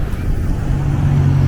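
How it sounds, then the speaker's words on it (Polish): Cars drive along a road in Canada, a low steady engine and tyre rumble that swells slightly as a vehicle passes close by. "Samochody tutaj jeżdżą po tej Kanadzie."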